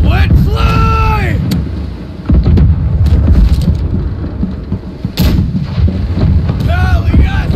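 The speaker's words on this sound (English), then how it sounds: "Fire the cannons!" Ship cannons fire in the naval combat game Blackwake, heavy booming blasts rolling out in bursts over rain-like noise and game effects, while players shout to each other over the action.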